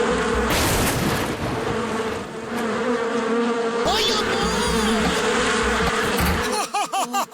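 Giant cartoon mosquitoes in a Motu Patlu episode buzz loudly and continuously, a dense droning whine with wavering pitch, ending in a few sharp wobbling zaps as the drone drops out.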